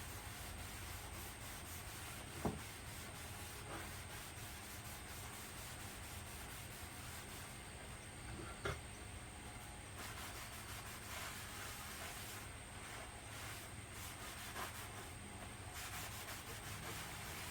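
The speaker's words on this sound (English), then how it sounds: "going to clean them off with some alcohol. Because they're dusty." Cut and sanded wood pieces are wiped clean with alcohol, giving a faint, steady rubbing and swishing that continues for the whole stretch, with a couple of small knocks.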